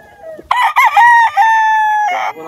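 A single loud, close rooster crow rings out at the BBM Game Farm, a long drawn-out call that holds steady before tailing off, with no other sounds around it.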